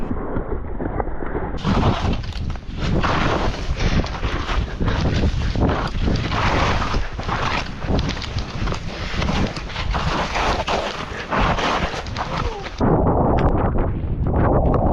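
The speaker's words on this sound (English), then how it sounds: "So the wind at the top of 7th Heaven was definitely affecting vibes" Strong wind sweeps the mountain top at 7th Heaven, Whistler, in a ski area: a loud, continuous roaring rush with gusty buffeting against the microphone, steady throughout with only brief shifts in intensity.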